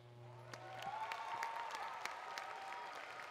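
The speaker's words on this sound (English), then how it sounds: "Can I get a big round of applause for that?" An audience at a school district orchestra festival in 2024 applauds in a steady, moderately distant wash of clapping, with a faint tone lingering underneath at the start.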